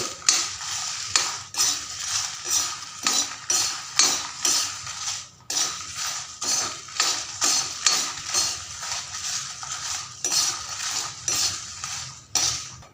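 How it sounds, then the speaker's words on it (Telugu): Cumin seeds dry-roasting in a pan with no oil, stirred with a metal spoon that clinks and scrapes in a steady, close rhythm of repeated strokes, with no talking. "నేనైతే ఒక మూడు స్పూన్లు జీలకర్ర తీసుకున్నాను జీలకర్ర కూడా బాగా వేగాలండి"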